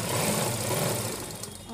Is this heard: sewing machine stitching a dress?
yes